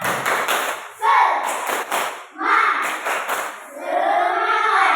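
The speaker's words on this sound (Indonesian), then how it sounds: "Tepuk semangat." A class of schoolchildren in a practice teaching lesson performs the 'tepuk semangat' spirit clap. Sharp group claps come in short rhythmic bursts, mixed with loud chanting voices from the children.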